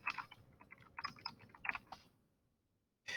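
Keys tapped on a computer keyboard in a short, close burst of uneven clicks over about two seconds, then quiet with a brief noise at the very end.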